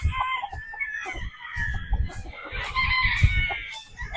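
A Roundhead broodstag rooster with a straight comb clucks and calls repeatedly in a series of short, close vocal bursts, with faint farmyard noise in the background.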